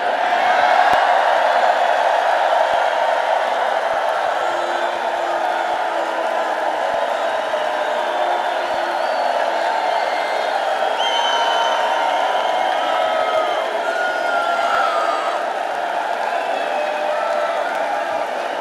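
A crowd of many thousands fills an arena at a Donald Trump rally in Duluth, Minnesota, sustaining a loud, dense roar of cheering and whoops that holds steady throughout, with no clear voice standing out.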